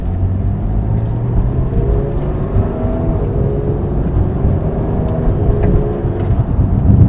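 Porsche GT3 with a 500-horsepower engine accelerating on a low road lined with speed bumps, heard from inside as a loud, steady engine drone with a rising whir and continuous road rumble.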